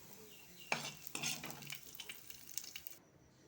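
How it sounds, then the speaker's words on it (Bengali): Onion and garlic fry in oil in a pan, soft sizzling with a few clear scraping stirs of a utensil near the start, then quieter clatter fading out. "এবার এই পেঁয়াজ আর রসুনটাকে ভালো করে একটু ভেজে নেব।"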